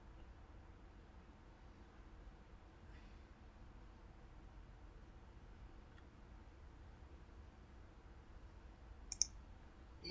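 A computer mouse gives one or two faint, brief clicks near the end while loading a Siemens S7-1200 PLC CPU in TIA Portal software, nearly buried under a steady low hum of room and equipment noise.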